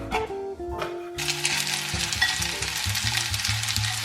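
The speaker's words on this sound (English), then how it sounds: "Stir fry until the chives become soft." Chinese chives and egg stir-fried in a pan, with a steady hissing sizzle that swells after the first second, while soft scraping and clinks of a spatula keep a loose rhythm close by.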